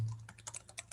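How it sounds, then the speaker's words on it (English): Keystrokes on a computer keyboard typing out a web address, a quick irregular run of light clicks heard alone, fairly close and faint, over a low steady hum. "we are supposed to type"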